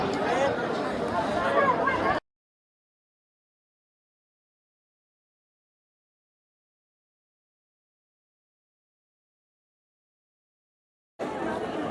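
Devotees crowd a Khandoba temple during a Jay Malhar family yatra, their chatter a dense, steady babble heard briefly at the start and again at the end, with a long silent gap between.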